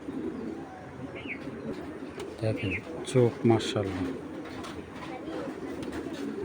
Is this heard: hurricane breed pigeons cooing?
yes